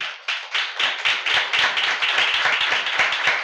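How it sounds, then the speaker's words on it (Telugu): A church congregation claps together during a Sunday service, a loud, close run of rhythmic group claps that starts at once and keeps an even beat without talk. "ఈ మాటలు అర్థమైతే గట్టిగా చప్పట్లు కొట్టు ప్రభువుకి."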